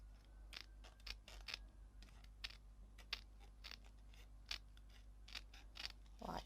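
Scissors cut paper card by hand in a quiet room, a series of close, crisp snips in an irregular rhythm with soft handling rustle between them.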